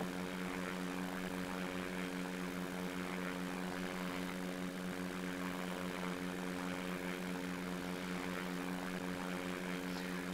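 A propeller aircraft engine droning steadily in flight over an airfield in a flight simulator game, a constant tonal hum with harmonics, even and uninterrupted throughout, with no talk.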